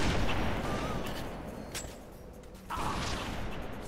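A sniper rifle fires in a team sniper video game match, sharp booming shots with a mechanical action sound between them, close and loud.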